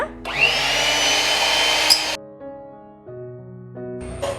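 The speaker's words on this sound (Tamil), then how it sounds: "நான் இப்போ பிளெண்டர் வச்சு பிளெண்ட் பண்ண போகிறேன்." A kitchen blender whirring through boiled tomatoes for homemade tomato sauce and ketchup, a loud steady motor drone for about two seconds that cuts off abruptly, then quieter hum.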